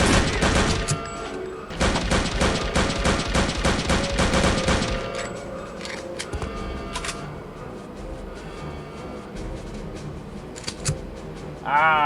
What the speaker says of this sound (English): Ah, Mauser rifle.